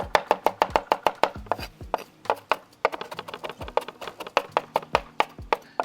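A knife chopping parsley and cilantro together on a cutting board for chimichurri sauce, producing rapid, crisp, evenly spaced taps that run steadily throughout, close and clear with no talking.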